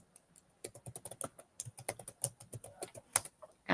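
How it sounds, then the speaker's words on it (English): Rapid bursts of keystrokes on a computer keyboard, close and clear, with irregular rhythm and short pauses between words, with no voices. "That's what I was typing in."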